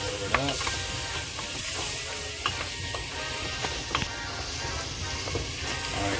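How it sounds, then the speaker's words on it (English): Gumbo being stirred in a pot on the stove, a steady sizzle and bubbling with occasional scraping clicks of the spoon against the pot, close and continuous. "we're going to stir that up and get that on low"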